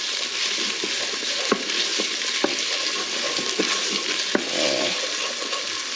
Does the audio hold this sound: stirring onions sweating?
yes